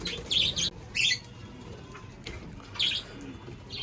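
Hungry parrots calling in a home aviary, a few short shrill chirps and squawks in separate bursts over a steady low background murmur.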